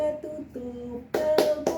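Hand claps from a teacher leading a children's action song during a microteaching practice class, a few sharp claps near the end that follow quieter sung or spoken tones.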